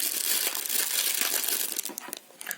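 A plastic bag from a Lego set crinkles and crumples loudly up close as it is opened and handled, a continuous rustle that breaks into scattered crackles toward the end, with no voices.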